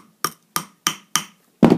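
A hammer taps a metal wire ring four times in an even rhythm, then strikes once more a little harder, each blow a crisp, close, ringing tap with silence between.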